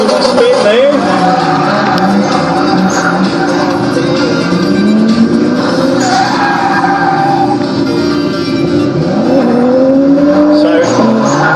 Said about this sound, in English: I think it's Anthony Stokes that's just on the spin there